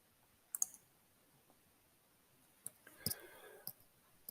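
Quiet mouse clicks on a computer while setting up a Google business listing, a few sharp, faint clicks spread out, alone with no voices.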